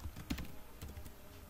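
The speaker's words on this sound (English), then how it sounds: "one thing I usually do is type in set" A command being typed on a computer keyboard during a penetration-testing session, a few soft key clicks across a short, quiet stretch with no talk.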